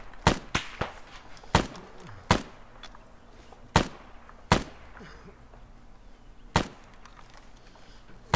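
Sharp, loud shots from a .50 caliber machine gun in a video game crack out singly and in pairs at irregular intervals, with quieter background rumble between them and no talking.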